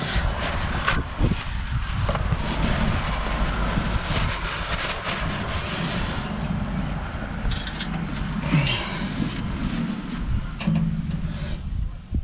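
Wind blowing outdoors during a dumper service, a steady loud roaring buffet against the microphone throughout, with faint mechanical and handling sounds underneath.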